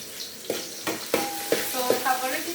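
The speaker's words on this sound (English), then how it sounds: "So I'm frying the cabbages." Cabbage frying in pre-warmed cooking oil, with a steady sizzle under four or five sharp spatula knocks and scrapes from stirring, close by, with no voices.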